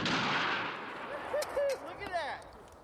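A double-barreled gun fires in a film scene, a loud blast that fades quickly, followed by someone speaking.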